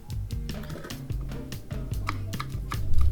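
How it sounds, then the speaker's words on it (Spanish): Knife chopping onions on a cutting board, a quick, even series of close, sharp taps with no talking. "Cortamos las cebollas."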